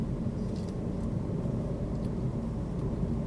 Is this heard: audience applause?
no